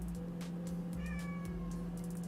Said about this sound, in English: I heard the sound of a meowing